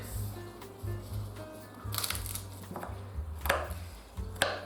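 A knife cuts four garlic cloves on a board for a beef pot roast, with quick, irregular close chops and taps that come in short bursts at low volume, without talk.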